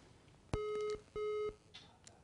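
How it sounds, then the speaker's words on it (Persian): Telephone busy tone after a call drops during an election talk broadcast: two clear, loud steady beeps of equal length with a short gap between them, standing alone with no voices. "فکر میکنم که تلفنشان قطع شد"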